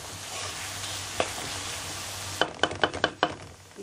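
Small soya chunks sauté and sizzle in a pan with salt, a steady frying hiss followed by a quick series of sharp scraping knocks as a spoon stirs the chunks.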